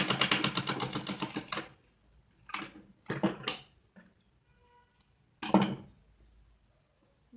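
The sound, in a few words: sewing machine stitching a one-piece dress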